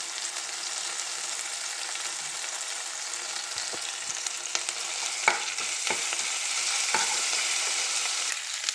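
Ginger garlic paste and curry leaves frying in a pan, a steady bright sizzle with occasional scraping stir and clink sounds, close and continuous, with no talking.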